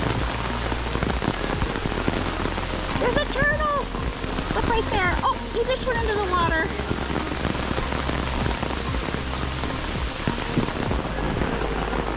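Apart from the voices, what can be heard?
heavy rain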